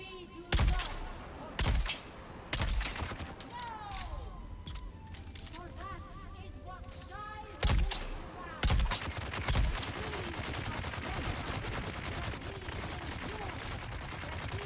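Shotgun blasts in the game Dune: several loud, sharp booms spaced a second or two apart, separated by a lull, with someone talking over and between the shots.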